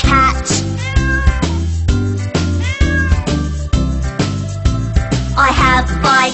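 A cat meows loudly and repeatedly in quick succession over a children's song with a steady beat.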